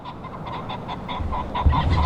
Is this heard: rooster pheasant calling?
yes